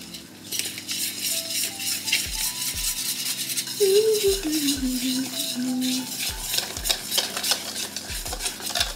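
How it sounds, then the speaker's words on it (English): Cake batter with baking soda is stirred by hand in a bowl, the utensil scraping and clinking rhythmically against the sides while a faint tone wavers in the background. "Baking soda. Let's mixy this up."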